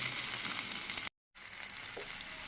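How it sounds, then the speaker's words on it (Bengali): Close sizzle of onion, garlic and spices frying in hot oil, briefly cut to silence partway, then the crackling frying continues. "এগুলো এবার সব একসাথে একটু তেলে নেব, ভেজে নেব।"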